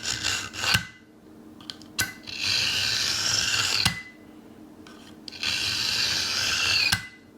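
An Accusharp handheld knife sharpener is drawn along a kitchen knife blade in several rasping strokes, each a second or so long with short pauses between, close and fairly loud, with no talking.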